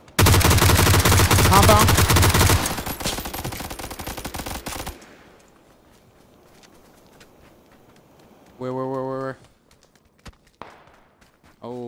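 Rapid automatic fire from a G36C rifle in a PvP shooter game, a dense loud burst lasting several seconds before cutting off, followed by quieter ambience, scattered faint shots and a short spoken word.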